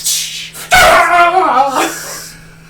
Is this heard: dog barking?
yes